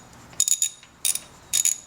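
Ratchet wrench tightening a coil pack bolt in the engine bay of a 2000 Audi S4, heard as three short, crisp bursts of rapid clicking close by, separated by brief pauses, with no talking.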